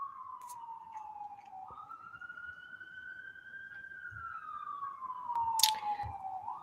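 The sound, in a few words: siren sound effect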